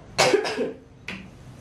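A person coughs in a few harsh bursts, two close together and a third after a short pause, near and fairly loud with no speech.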